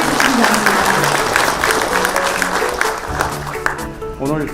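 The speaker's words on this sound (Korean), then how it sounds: "여러분, 큰 박수 맞아주시기" Audience applause at a policy meeting between a political party and the taxi industry in a Seoul transport hall, a loud crowd of clappers with voices audible underneath, tapering off near the end.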